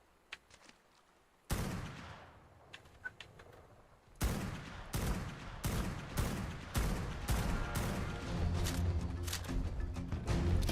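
Rapid gunfire from a sniper-style weapon in Ark: Survival Ascended, a faint shot or two followed by a loud, sharp run of about a dozen evenly spaced shots, close and dominant with no talk over them.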